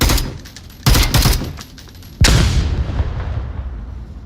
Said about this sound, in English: Gunshots being made.